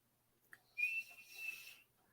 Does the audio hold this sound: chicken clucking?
no